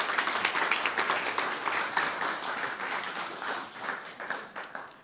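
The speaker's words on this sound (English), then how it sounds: "Let's go, another round of applause." Audience applause at a guide dog graduation ceremony, a moderate crowd clapping in a dense rhythmic patter that gradually thins and swells again before fading.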